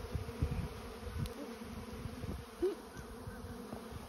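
A swarm of honeybees moving into a bait hive fills the air with a dense, continuous buzz, individual bees droning past close by over the steady hum outdoors.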